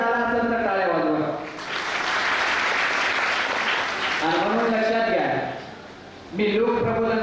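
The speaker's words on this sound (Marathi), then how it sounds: "डोक्यात आला असेल तर टाळ्या वाजवा" An audience at a student guidance ceremony at Hadgaon ITI breaks into loud, sustained clapping for several seconds. A speaker's voice comes before and after the applause.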